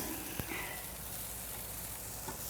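Flipped burgers sizzle steadily on a grill, a continuous bright frying hiss with a couple of faint pops, close and without talk.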